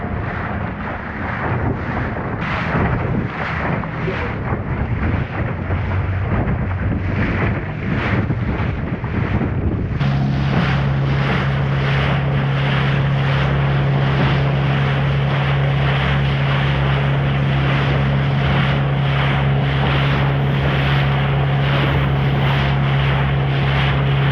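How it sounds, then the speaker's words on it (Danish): A boat out on open water during a fishing trip among rocky Norwegian coastal waters, with steady wind buffeting the microphone and a continuous low engine drone that settles into a constant hum partway through, no voices. "fisketur med båd"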